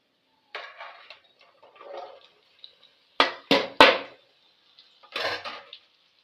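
Washed okra pieces drop into a pan in a few short bursts, light rattles at first, then three loud close clatters in quick succession and a final burst of pieces hitting the metal, with no talk.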